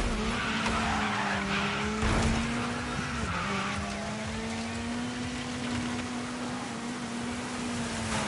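A rally car oversteering and skidding in the DIRT 5 racing game, with a sustained tire squeal that wavers in pitch over a steady engine hum, fairly loud and unbroken, with no voices.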